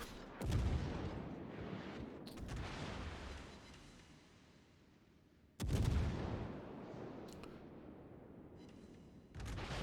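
A battleship in World of Warships fires two heavy AP shell salvos, each a loud booming blast with a long rumbling decay, the second about five seconds after the first, with lighter gunfire cracks in between.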